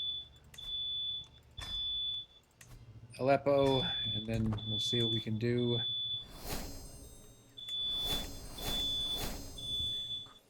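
A smoke detector emits repeated high, thin beeps in short evenly spaced groups, continuing faintly in the background while someone talks over them.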